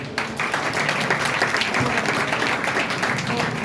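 Students at a seminar for SSC students applaud loudly for their academy, a dense, continuous burst of clapping filling the room for a few seconds.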